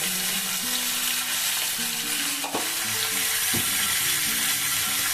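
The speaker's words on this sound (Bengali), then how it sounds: "এই যে আলুগুলোকে আমি মিডিয়াম ফ্লেমে এখন ভাজবো" Potatoes fry in a pan over a medium flame with a steady sizzle, and a brief stir or scrape cuts in near the middle. No voices are heard.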